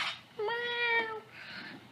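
A pet cat gives a single clear, drawn-out meow close by, rising and falling over about a second, with faint rustling before and after.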